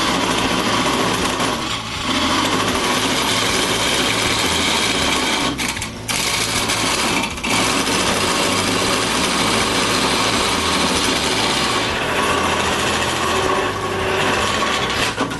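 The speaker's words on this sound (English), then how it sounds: "my turning with chisels is done" A wood lathe turning a wooden snowman while chisels cut into it, a dense continuous scraping and whirring with a few short breaks as the tool lifts off.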